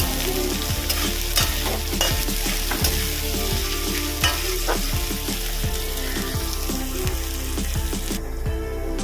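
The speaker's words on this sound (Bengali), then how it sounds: "আমি এবার দেব কুচিয়ে রাখা পেঁয়াজ পেঁয়াজটা ভালো করে ভেজে নেব" Chopped onion fries in oil in a pan and gets stirred hard, giving a loud continuous sizzle broken by regular scraping strokes of a spatula, close up and with no talking.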